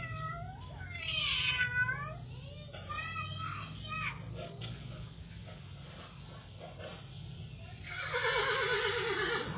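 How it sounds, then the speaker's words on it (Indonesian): A horse neighs, a drawn-out whinny rising and falling, near the start and again near the end, mixed with other animal calls and background voices in a recording of various animals. "Ada kuda."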